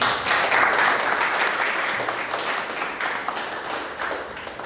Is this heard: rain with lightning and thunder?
no